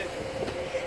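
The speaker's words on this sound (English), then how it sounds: "Because this train's going to detach a minute." A Class 156 diesel train sits at Kilmarnock station while its units divide, giving off a faint, steady low rumble with a hint of rail hum.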